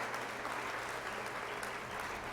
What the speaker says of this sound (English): For a moment, silence, then cheering?